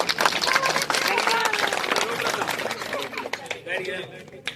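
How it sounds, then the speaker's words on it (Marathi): An audience claps loudly at a village birthday celebration for Gajanan, a dense burst of applause mixed with voices and crowd chatter, tapering slightly toward the end. "त्यांच्यासाठी एकदा जोरदार टाळ्या"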